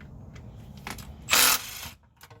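A ratchet backs out transmission pan bolts underneath a Ford F250 Excursion, giving short close clicking bursts followed by one louder rasping spin, with no talking.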